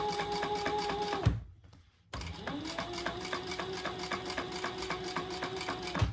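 A sewing machine stitches vinyl across a bag's handle connector with a fast, even mechanical chatter, pauses for about a second, then resumes its steady rhythmic whirring, close and clear.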